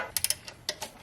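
A ratchet clicking on a 12mm bolt on a 2012 Honda Civic A/C bracket, a few quick faint metallic ticks in two short bursts, close and quiet.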